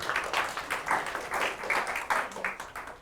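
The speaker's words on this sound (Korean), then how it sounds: "박수." Classroom audience clapping after a student design presentation, steady moderately loud applause for a few seconds with no voices over it.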